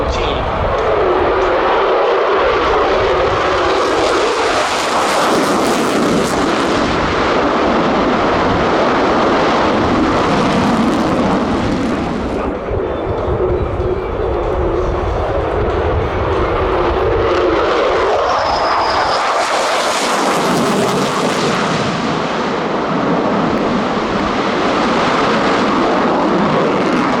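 Roaring jet engine noise from F-22 Raptors flying low approaches at the EAA AirVenture Oshkosh airshow, a loud continuous wash that swells and fades as the jets pass, with crowd noise and an announcer talking over it.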